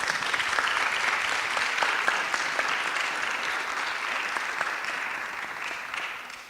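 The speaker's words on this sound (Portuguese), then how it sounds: "Uma salva de palmas." An audience at a Portuguese-language talk breaks into sustained, dense applause, a broad wash of clapping that holds steady for several seconds before tapering off.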